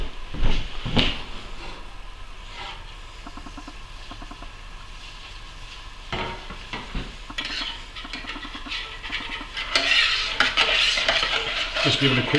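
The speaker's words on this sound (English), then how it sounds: "Just give it a quick stir to go up around the top." A spoon stirs soft drink boiling in a pot, giving scraping metal clinks against the pot under a bubbling sizzle, with a louder clatter toward the end.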